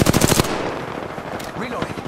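Rapid automatic gunfire in Apex Legends, a quick burst of several sharp close shots followed by fainter scattered shots and game effects.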